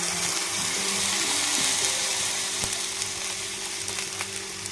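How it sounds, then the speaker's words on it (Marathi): Water poured into a hot pan of tempering with turmeric, tomato and ajwain for zunka, a loud steady sizzle and hiss with faint metallic scraping throughout. "पाणी टाकून घेऊया आपण."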